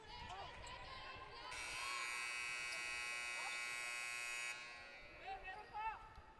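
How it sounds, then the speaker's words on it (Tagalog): A sustained electronic buzzer sounds for about three seconds during a women's pro basketball game, loud and steady in the arena, with commentators talking before and after it. "Buzzer went off"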